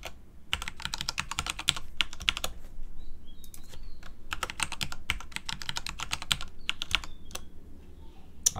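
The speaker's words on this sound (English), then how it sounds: "So I'll just go ahead and type something in." Close, crisp clatter of computer keyboard keys typed in quick bursts with short pauses as a password is entered, steady and fairly quiet with no speech.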